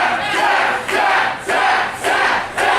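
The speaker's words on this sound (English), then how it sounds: "The crowd chanting to tap" A wrestling crowd in an arena chants for a tap out, loud rhythmic bursts of massed voices repeating about every half second, roaring close and full.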